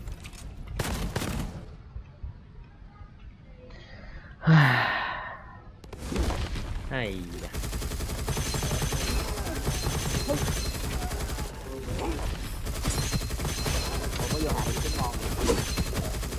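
Bursts of electric gun fire from the shooter game Gunfire Reborn crackle in rapid clusters, loud and close, mixed with other game effects while a player talks excitedly over the action.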